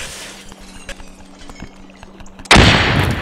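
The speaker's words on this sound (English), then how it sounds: "Ow, that's another grenade." A grenade goes off in the multiplayer stealth game Intruder: a sudden loud, broadband blast about two-thirds of the way in, trailing into a sustained roar after quieter game noise with scattered clicks.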